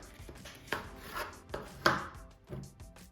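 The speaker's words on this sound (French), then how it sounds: "je viens le découper donc en cubes" A knife chops a peeled vegetable into cubes on a cutting board, with about five sharp, separate thuds at an irregular pace, close and fairly quiet.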